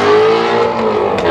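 The 5.2-liter V8 of a 2016 Ford Mustang Shelby GT350R roars steadily nearby on a racetrack, a sustained throaty drone with slight shifts in pitch as it holds revs.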